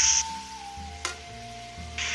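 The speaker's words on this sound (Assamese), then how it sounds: "ইয়াত মই এতিয়া অলপ গৰম পানী দি দিছোঁ।" Hot water poured into a pan of cooking tomatoes for a fish curry, giving a soft steady sizzle with a brief splash midway and a faint tone running beneath.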